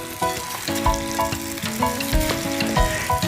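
Salmon pieces fry one at a time in plenty of oil in a pan, giving a steady, close sizzle mixed with sustained tonal sounds.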